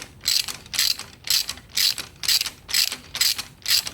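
A ratchet tightens a lock nut onto a bolt on the twin-stick shifter of a 1966 Ford Bronco. About eight rhythmic clicking strokes come at an even pace, close and crisp, with no talking.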